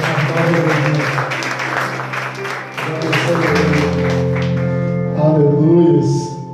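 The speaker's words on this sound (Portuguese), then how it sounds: "Você pode dar uma salva de palmas" A church congregation gives a round of applause during a service, brisk clapping at first, then fading under sustained music tones and a voice that carry on to the end.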